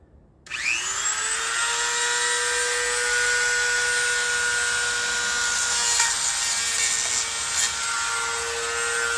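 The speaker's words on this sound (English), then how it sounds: "nib or sanding tool, and I'm just gonna go at it" A power sanding nib grinds steadily against a cast engine block during deburring, a loud, continuous high-pitched whine that spins up sharply and holds for about nine seconds, close to the mic with no talk.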